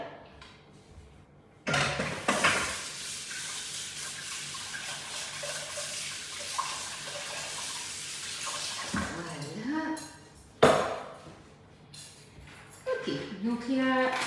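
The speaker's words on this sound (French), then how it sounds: "Je vais juste laver mes fouets" Running tap water splashes over metal whisks being rinsed in a kitchen sink during nougat glacé preparation, a steady gush with clatter and handling noises, while a person talks over it.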